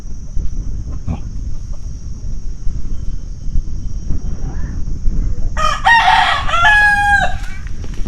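A rooster crows loudly nearby near the end, a long strained call rising over a steady outdoor hum and scattered faint rustles.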